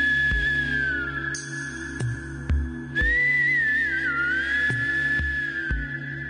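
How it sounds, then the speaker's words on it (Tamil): A person whistles a sustained, wavering tone that holds and bends over several seconds, with a few short breaks, over a faint low hum and occasional soft thumps. "நான் காதுல விசில் அடிப்பேன்"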